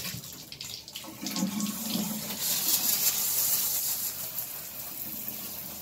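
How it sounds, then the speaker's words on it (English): Cold shower water sprays onto a computer keyboard being rinsed, a steady hissing rush that swells after a second and holds loud and continuous without talk. "I'm gonna go ahead and toss this in the shower."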